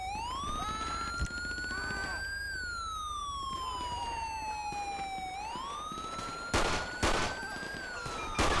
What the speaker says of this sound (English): I got one male shooting with an automatic weapon.